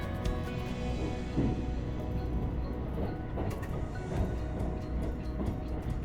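The Thunderbird limited express runs on its rails past the Suita depot toward Osaka, heard from on board as a constant low rumble with a rhythmic clatter of wheels over rail joints.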